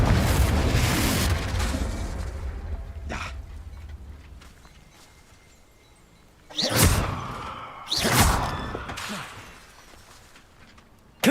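Spell blasts from Confringo and Bombarda in the game Hogwarts Legacy: a heavy explosive rumble at the start decays away, then two sharp whooshing bursts land in quick succession, with a final snap at the very end.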